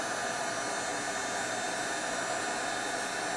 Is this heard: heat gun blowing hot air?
yes